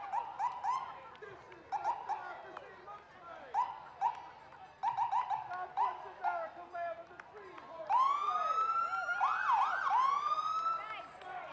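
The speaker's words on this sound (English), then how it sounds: "We have an ambulance from the Garrison Volunteer Ambulance Corps." A volunteer ambulance corps vehicle sounds its siren at an Independence Day parade in Peekskill, with short whoops and yelps first and then a loud, continuous wailing siren close by while an announcer talks over it.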